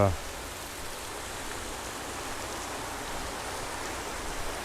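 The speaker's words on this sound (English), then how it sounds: "this looks like a more forceful waterfall, and cleaner pool" A forceful waterfall pours into a pool on Mount Isabel de Torres in the Dominican Republic, a dense, steady roar of rushing water that stays loud and constant throughout, heard close up.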